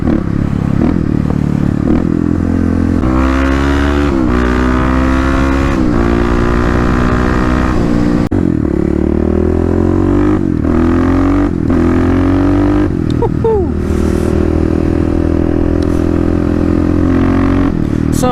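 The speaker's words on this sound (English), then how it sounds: "I can definitely hear a lot more intake noise." Kawasaki KLX351 dirt bike engine running with the airbox lid removed, loud close intake roar as it is revved up and down repeatedly, the pitch climbing and falling in several sweeps.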